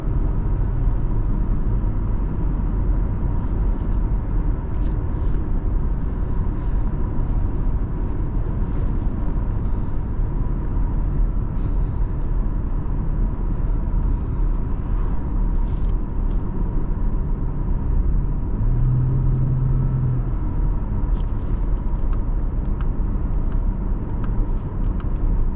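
Inside a 2007 Lexus GS350 AWD on the move, the engine and road noise make a constant low rumble and hum that pulls on steadily under light throttle, with no talk heard.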